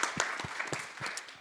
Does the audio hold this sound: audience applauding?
yes